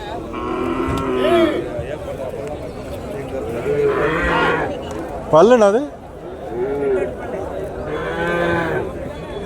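Plough bulls at a busy cattle market moo several times, with a few long lowing calls rising and falling over steady crowd chatter and someone speaking nearby.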